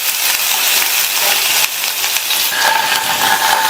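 Finely chopped onions, about a quarter cup, sautéing in hot oil in a pan for a dosa recipe, giving a loud, steady sizzle and hiss that runs unbroken through the whole clip with no talking.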